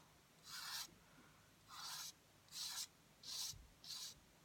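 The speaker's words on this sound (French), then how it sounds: "c'est peut-être parce que je frotte trop, mais la peinture s'en va." Quiet, rhythmic rubbing over 3D paint from Noz: five short scratchy strokes, evenly spaced, with near-silence between them and no voices.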